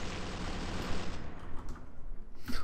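A machine gun fires nonstop in the Roblox game Arsenal, a dense rattling stream of rapid shots, loud and steady, with a sharper burst near the end.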